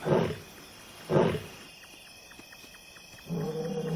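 Two deep, breathy lion roars rise and fall in quick succession, followed by a run of short grunting pulses and a third low roar starting at the end.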